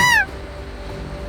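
Emperor goose honk in Cold Bay, Alaska: a single loud, nasal, rising call at the very start, then quiet outdoor ambience and the start of another call at the end.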